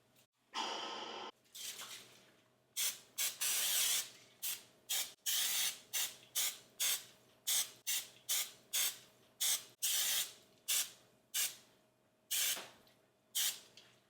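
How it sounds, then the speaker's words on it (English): Short, forceful hissing bursts of Pam non-stick cooking spray repeat in quick succession, a dozen or more puffs close by with brief gaps between. "We're gonna use a little bit of Pam non-stick cooking spray."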